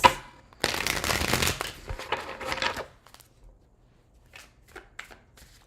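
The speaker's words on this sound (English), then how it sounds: "last shuffle for Virgos." A deck of tarot cards is shuffled close up, giving a dense riffling burst followed by softer scattered card slaps and taps that fade toward quiet.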